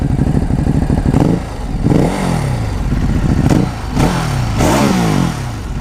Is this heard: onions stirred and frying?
no